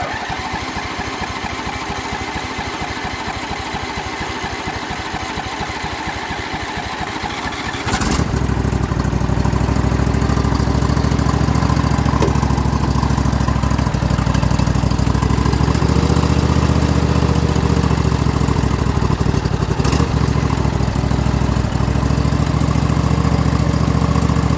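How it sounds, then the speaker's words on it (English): A 25 horsepower Briggs V-twin engine on a Poulan Pro machine cranks briefly in the cold, then catches and settles into a steady, loud, close idle that runs on without any talking. "It's a 25 horse Briggs V-twin."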